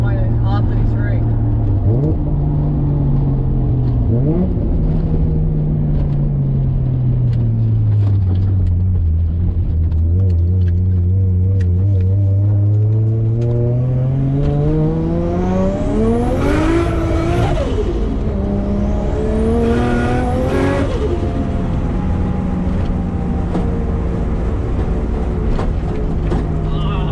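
Turbocharged 550 hp built RB25DET engine in a Nissan R33 accelerating hard through the gears on a boost pull, engine pitch climbing and dropping at shifts, loud and close inside the car with someone talking over it.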